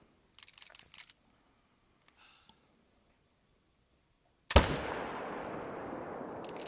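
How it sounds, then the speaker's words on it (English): A single loud rifle shot fired at a bear in theHunter: Call of the Wild, a sharp close blast with a long echoing tail, preceded by faint clicks and rustles in an otherwise quiet outdoor scene. "We'll go ahead and just shoot him now."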